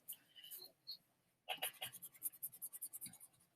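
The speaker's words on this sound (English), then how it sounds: "I'm going to go ahead and erase what's around it up to my line" A pencil eraser rubs back and forth on drawing paper, a rapid run of close, dry scratchy strokes following a few lighter scrapes and a brief pause.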